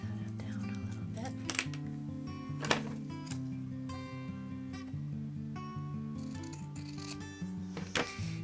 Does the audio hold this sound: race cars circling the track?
no